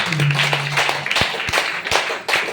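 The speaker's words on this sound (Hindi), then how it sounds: "जोरदार ताली बजा लीजिए।" An audience at a meeting claps loudly, a dense steady patter of many hands with a few sharper slaps standing out throughout.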